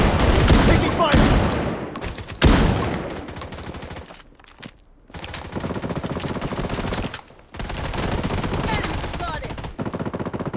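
Sustained automatic gunfire and shotgun blasts in the mobile shooter Bloodstrike, loud and dense bursts broken by two short lulls, with occasional game voice callouts mixed in.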